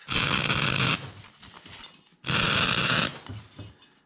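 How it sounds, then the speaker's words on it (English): Welding onto a metal bearing: two loud, harsh crackling bursts of about a second each, separated by a quieter stretch of faint clatter. "So I'm going to weld onto this bearing, and that should expand the metal"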